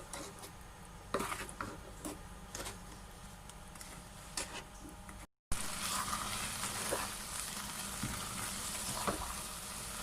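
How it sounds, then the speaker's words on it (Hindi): A spoon keeps stirring semolina milk halwa in a pan, producing soft bubbling and a low sizzle with intermittent scraping taps, fairly quiet and close, briefly cut off midway, then resuming. "चम्मच आपने चलाते जाना इसके अंदर।"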